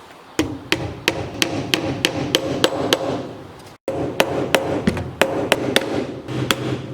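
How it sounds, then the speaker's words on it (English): Sharp hammer strikes tacking nails flat into wood on a phone stand ring out in a steady series of about a dozen taps with a brief pause midway, close and crisp. "Then you're going to take your hammer and tack them in the rest of the way"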